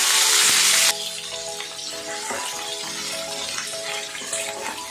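Shallots, dried red chillies and peeled garlic cloves sauté in oil for garlic chutney: a loud hiss opens, then eases into a steady sizzle with occasional clinks and stirring scrapes.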